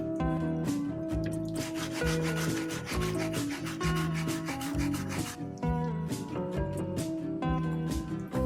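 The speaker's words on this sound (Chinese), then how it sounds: "将水泥块放入水槽，先用80目的砂纸，很快表面颜色就露了出来" Cement terrazzo block sanded with 80-grit sandpaper in a sink, a steady rubbing scrape running throughout beneath loud, continuous background music.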